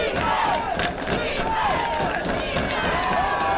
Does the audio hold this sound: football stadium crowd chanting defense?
yes